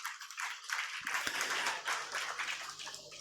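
An audience at a religious ceremony in a hall claps in a brief, faint burst of scattered applause heard from a distance.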